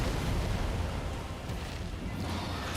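A cannon shot in Elden Ring with the Graceborne Bloodborne-style overhaul mod: a heavy, sustained booming roar that fills the whole clip, loud and rumbling without a clear separate attack.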